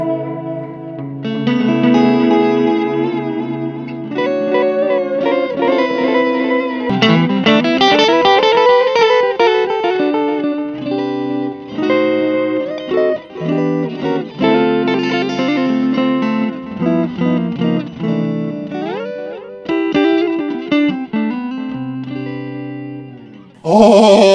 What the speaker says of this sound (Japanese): 次はこちらのベルエポックテープエコーなんで行ってみます